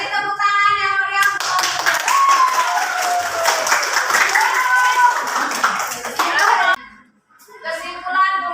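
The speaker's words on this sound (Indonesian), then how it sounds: "kasih tepuk tangan yang meriah" Classroom of children clapping for a winning group during a geography lesson, a burst of close, lively hand claps with kids' voices mixed in, framed by a teacher speaking before and after.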